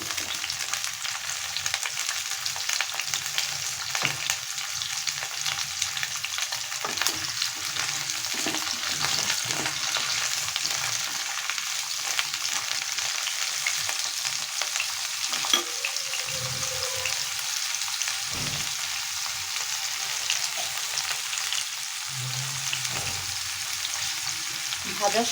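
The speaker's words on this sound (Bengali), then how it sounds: "এখন আমি ফুলকপি আলুটা ভেজে নেব।" Cauliflower and potato fry in oil in a kadai, giving a steady, close sizzle and crackle for the whole stretch, with occasional scraping stirs.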